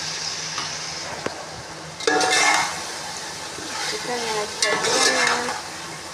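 Chicken pieces tipped into a hot pan for pulao, bursting into a loud sizzle and then stirred with a spoon scraping and clinking against the pan, while a voice speaks briefly.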